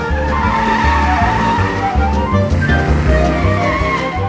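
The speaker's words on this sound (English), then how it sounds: "He can drive off in my car." A small cartoon toy car drives off fast with squealing, skidding tyres and a whining, revving engine, loud and close for the whole stretch with no voices.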